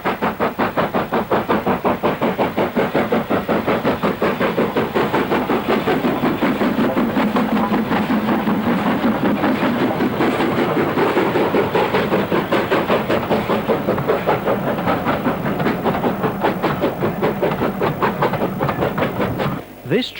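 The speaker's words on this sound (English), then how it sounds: "This train is captured as the line passes close by Beck Hole." A steam locomotive on the North Yorkshire Moors Railway near Beck Hole, working the steep 1 in 49 climb towards Goathland, gives a loud, steady run of rapid chuffing beats that carries on for about twenty seconds.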